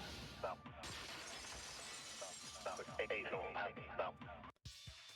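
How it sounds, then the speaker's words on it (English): Glass shattering effect from the Danganronpa 2 video game, a sharp crash set against a busy game soundtrack with overlapping voices, ending in an abrupt cut. "Heard the sound of the window shattering."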